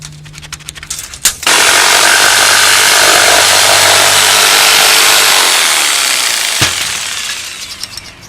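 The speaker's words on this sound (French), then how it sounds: "j'ai fait ma coupe sur l'envers parce que ma scie sauteuse remonte avec les dents" A jigsaw cuts through Silverwood wood cladding, starting with a few short taps and then running in one loud, steady buzzing stretch of about five seconds before stopping.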